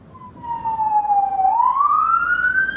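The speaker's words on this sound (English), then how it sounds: "I just hear a siren." A siren sounds loud and near, a single wailing tone that dips and then climbs again, heard alone with no talk over it.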